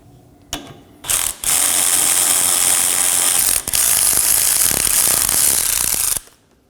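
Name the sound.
ratchet removing 14mm bolt from Toyota Camry control arm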